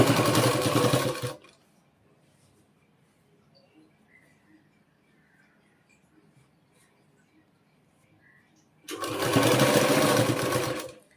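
A sewing machine stitching lace onto trousers runs in two short loud bursts, one at the start and one near the end, separated by a long quiet stretch.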